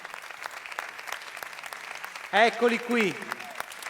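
Audience applause for talent show performers on stage sits as a faint, continuous patter under talk, with a louder voice breaking in toward the end.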